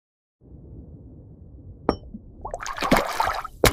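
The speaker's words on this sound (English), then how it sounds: "The sound effects before and after the water splash are completely on point." An AI-generated perfume ad soundtrack: a quiet low hum, then a sharp glassy clink, followed by a bright rushing water splash that builds and churns loudly to the end, with no talk.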